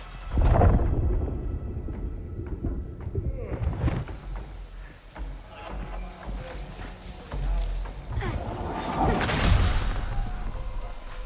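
Deep thunder from an approaching storm in the Unknown 9: Awakening video game, in a sandy setting, rolls in as three heavy rumbling bursts near the start, middle and end over a constant low ambient bed.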